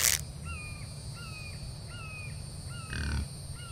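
A bird in the survival video game The Infected caws repeatedly at a steady, even pace, about six calls at moderate volume, with a short thump at the start and a brief broadband burst near the end.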